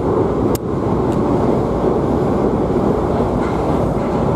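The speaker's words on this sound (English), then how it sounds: "This train is going to Heathrow Terminals 4 and 123" A London train bound for Heathrow Terminals 4 and 1-2-3 runs with a loud, steady rumble and roar throughout, close and continuous, with a couple of brief clicks near the start.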